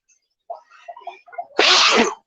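A single loud sneeze bursts out after a brief stretch of soft breathy sounds, close and abrupt.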